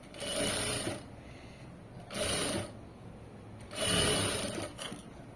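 Sewing machine stitching cloth along a folded one-and-a-half-inch hem, running in three separate bursts of steady whirring with quiet pauses between, close and moderately loud.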